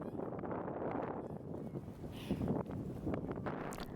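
Strong storm wind gusts over a river, buffeting the microphone with rough, uneven rumbling, swelling loudest midway and carrying faint rustling and splashy movement underneath.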